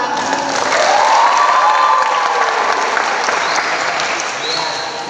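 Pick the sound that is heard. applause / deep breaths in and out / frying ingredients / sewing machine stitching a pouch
applause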